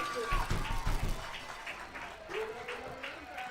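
A high school football crowd at a 2020 Montgomery Central at Springfield game cheers and claps in the stands, a steady roar with bursts of applause under commentators talking.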